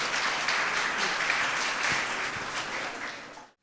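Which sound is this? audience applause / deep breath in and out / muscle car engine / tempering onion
audience applause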